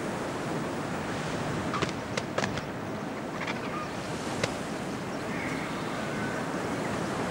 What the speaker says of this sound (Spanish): El oleaje que contemplan sus ojos es fluvial